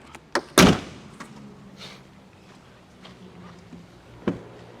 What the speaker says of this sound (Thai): เดี๋ยวขออนุญาตปิด ฝากระโปรงให้มันแน่นสักนิดหนึ่ง